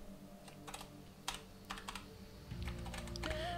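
Password keystrokes tapped on a computer keyboard, irregular bursts of light clicks at close range over a steady low hum, with no speech.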